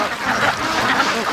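Ducks and a goose call together near a lake after rain, a brief, loud, close burst of honking and quacking with no talk over it.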